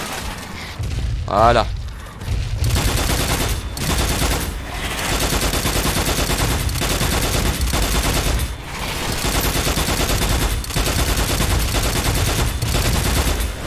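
Rapid special-weapon gunfire in the co-op shooter Strange Brigade, in the Sunken Kingdom DLC, rattling on loudly and almost without pause over a dense game soundtrack, with a player talking briefly near the start.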